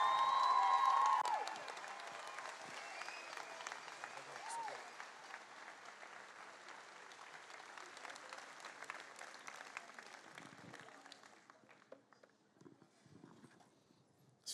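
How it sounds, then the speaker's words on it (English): Audience applause for the speakers at a Grenfell seventh anniversary event, a big round of clapping that starts loud with cheering, thins into scattered claps and fades out. "Can we get another big round of applause for all the brave speakers,"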